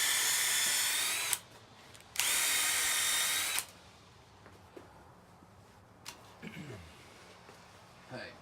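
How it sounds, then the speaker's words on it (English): Two bursts of a power drill, each about a second long, bore screw holes for plastic lumber landscape edging, followed by quieter clicks and handling sounds. "I've got one of my holes drilled"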